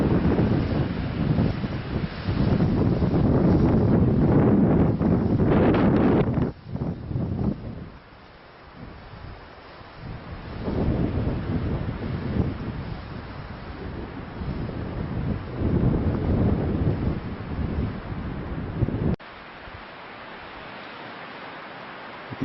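Strong winter wind gusts outdoors ahead of a snowstorm, loud roaring bursts buffeting the microphone, easing into quieter stretches before surging again, with no voices.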